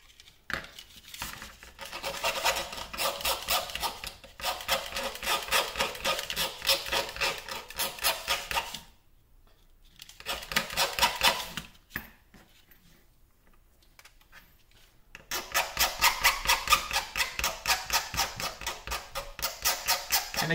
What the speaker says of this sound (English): let me take a little file and file this a little bit and round these tips over a little bit